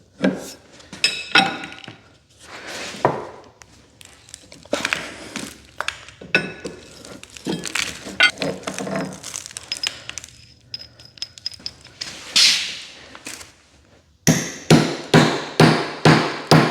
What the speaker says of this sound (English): I don't normally suggest beating on cast iron with a hammer